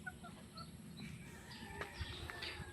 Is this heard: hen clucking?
yes